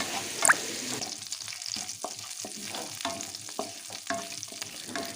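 Chopped onion, garlic, slit green chillies, dried chillies and panch phoron fry in fish oil, a steady close sizzle with repeated scraping stirs of a spatula against the pan.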